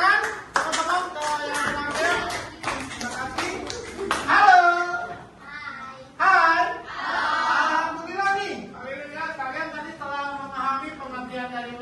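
Classroom applause from a group of pupils, bursts of hand clapping close by that start and stop unevenly, mixed with children's chatter and a teacher's voice.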